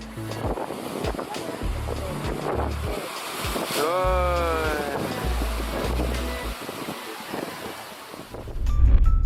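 Big ocean waves on the Indonesian coast, a continuous rush of surf mixed with heavy wind buffeting the microphone, with a boat-like rumble and surges in loudness throughout.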